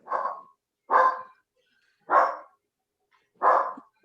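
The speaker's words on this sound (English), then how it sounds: "Is that your dog, Jafra?" A dog barks four times at an even, slow pace, each bark a separate, moderately loud burst with silence between, picked up through an open microphone on a video call.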